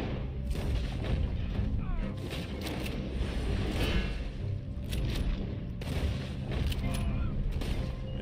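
Gunfire in Red Dead Redemption 2 on PS5, a dense run of shots and booming reports layered over a busy, continuous game mix, with talk running underneath.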